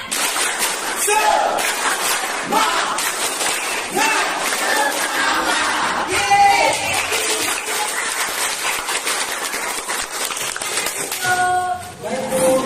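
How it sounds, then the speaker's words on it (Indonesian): A school class does the rhythmic 'tepuk semangat' spirit clap chant, children's voices shouting together over patterned clapping, loud and sustained, with a few brief tonal notes near the end. "Oke, tepuk semangat."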